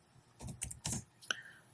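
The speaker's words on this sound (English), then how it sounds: "So I'm going to type" Typing on a computer keyboard, a few quick clustered key presses followed by a single sharp click, close and fairly quiet, with no talking.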